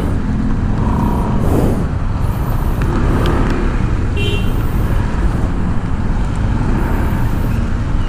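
Rain-soaked, congested traffic crawls along a Manila road during a typhoon, a dense continuous roar of engines and wet tyres with passing vehicles, a short horn toot and a brief air-brake hiss.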